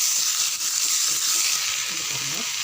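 Tomatoes sauté in a hot pan for mint chutney, giving a loud, continuous, close sizzle with faint stirring scrapes and no talking.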